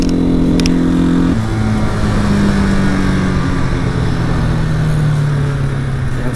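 Janus Halcyon 250 motorcycle being ridden, its engine droning steadily close by with a clear gear shift partway through and the pitch then sliding gradually lower, no talking over it.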